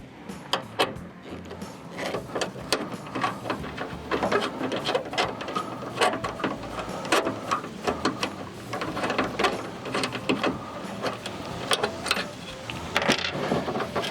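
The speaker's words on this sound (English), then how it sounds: "the next step is to take this bolt out" A ratchet working a bolt out of a truck tailgate, rapid rhythmic clicking bursts up close, fairly quiet with tool knocks and handling noise throughout.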